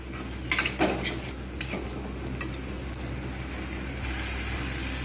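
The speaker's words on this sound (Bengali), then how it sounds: "এরভাবে আঁচ কমিয়ে বাড়িয়ে নিয়ে কষতে থাকবো" Tomato masala stirred and sautéed in a pot for kabli chana, a few quick metal spoon clatters early on, then a steady low sizzle with occasional light scrapes.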